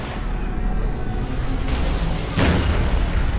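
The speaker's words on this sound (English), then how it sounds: "These guys took out their grenades too early. They're blowing up in their hands." Grenades going off in Halo Reach as enemy Grunts' explosives detonate in their hands, heard as two muffled booms, the second louder and fuller, over a constant rumbling battle background.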